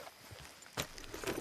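Rhythmic clip-clop of horse hooves walking in the video game Red Dead Redemption 2, with a faint noisy background.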